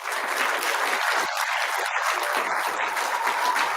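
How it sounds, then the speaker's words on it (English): Sustained applause from an audience at a startup pitch event, a steady, even wash of clapping from many hands, moderately loud with no talking over it. "A round of applause."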